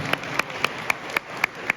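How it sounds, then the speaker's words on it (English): Audience at a comic con panel in Scotland clapping, with sharp, evenly spaced claps about every quarter second ringing out over a room's hum, close and fairly loud. "Give her a round of applause."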